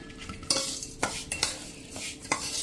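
Spoon stirring sweet jaggery mango pickle with fennel seeds in a pot, giving several sharp metallic clinks and scrapes at irregular intervals, close and fairly quiet, with no voices.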